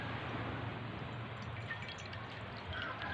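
Clean water poured into a dish, a short, soft, steady splashing stream heard faintly and alone.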